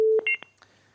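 Telephone dialing tones sound just before a viewer's call-in on a morning TV news program: a long steady tone, then a quick run of short DTMF keypad beeps, followed by a faint line hum.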